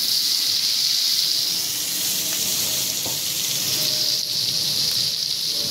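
Giant freshwater prawns frying in a pan give off a continuous loud, bright sizzle with a faint knock or two and no talking.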